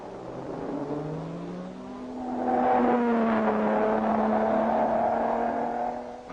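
A 1959 Le Mans race car pulls away from the pits to rejoin the race, its engine note rising steadily in pitch and loudness as it accelerates, then holding a sustained drone.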